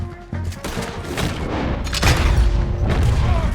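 Gunfire crackles through a shootout in the video game Red Dead Redemption 2, a flurry of overlapping shots and booms from near and far in a busy, continuous exchange.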